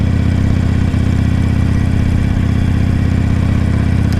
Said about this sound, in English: I am riding my Harley on the beach.